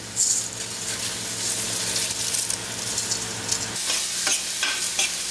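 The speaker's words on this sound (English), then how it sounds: "you need to give that a good stir, just to make sure the rice is coated with all that loveliness that we have on the bottom there" Rice is stirred into a hot pan over medium heat while making garlic shrimp rice, giving a steady, fairly loud sizzle with scraping stir strokes throughout and a few brighter crackles, with no talking.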